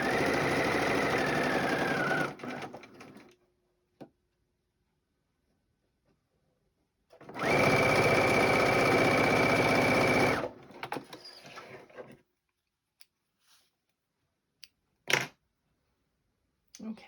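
A sewing machine stitches quilt seams a quarter inch from the edge in two loud, fast bursts separated by silence, with faint handling clicks and a short tap afterward.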